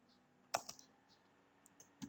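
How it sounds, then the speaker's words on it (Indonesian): Code typed on a computer keyboard during a Dart programming lesson: a few sparse, faint key clicks with quiet gaps against low room hiss. "di sini saya ketik void main"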